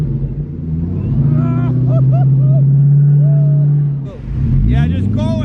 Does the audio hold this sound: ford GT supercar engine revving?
yes